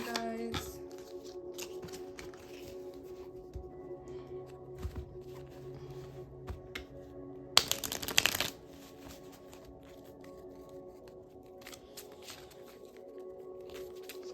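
Tarot cards being shuffled by hand, a soft papery riffle and patter running through most of the passage with one brief louder burst partway in, close and quiet against a faint background.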